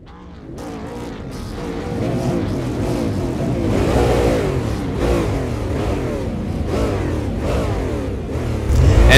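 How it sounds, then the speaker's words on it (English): Race car engines on the starting grid of a super late model event at London, revving and roaring together behind a Corvette pace car, loud and close, with throttle blips rising and falling continuously. "revving those motors, getting everything warmed up behind the Corvette pace car"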